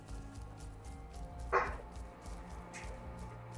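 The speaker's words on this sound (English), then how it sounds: "Dog." A dog barks once at a house door, a single faint, muffled bark set in a quiet indoor background with a low hum.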